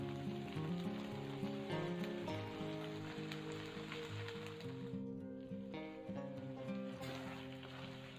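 Capcay goreng vegetables stir-frying in a pan, a steady dense sizzle and crackle running throughout under faint background music, with no talking.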